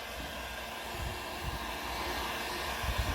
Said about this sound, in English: Heat gun. High heat.